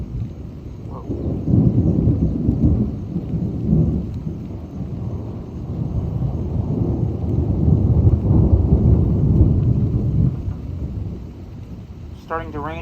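Loud thunder from a thunderstorm rolls in a long, deep rumble lasting over ten seconds, close and powerful, echoing off nearby buildings before fading, with rain noise beneath and brief speech near the end.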